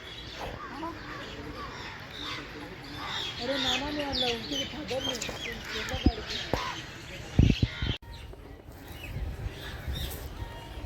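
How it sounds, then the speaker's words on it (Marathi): Birds call near a temple beside a lake, several short chirps and caws standing out close by while a person talks over them, with a few sharp knocks near the end. "पक्ष्यांचा आवाज येतोय."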